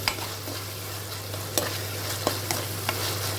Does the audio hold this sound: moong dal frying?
yes